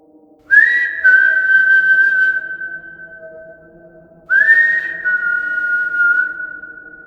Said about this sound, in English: Whistling sounded throughout our home